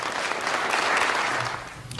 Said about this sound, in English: I would like to ask you to give a good hand of applause to Jack.